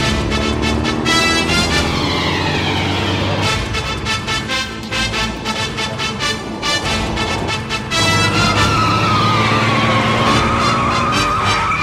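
A speeding car in a Ravi Teja action movie chase, engine roaring loud and continuous with repeated tire squeals and skids, gear shifts audible across the pass, no talking over it.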